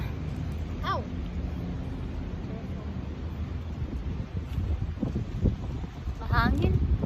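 Wind blows across the microphone in an outdoor park, a steady low rumble with stronger gusts toward the end, while people talk throughout.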